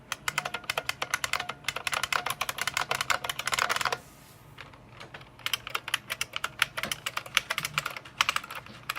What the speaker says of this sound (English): this is the keyboard that has rivets broken off behind it, and it's lost its tactility on the left side, but not the right.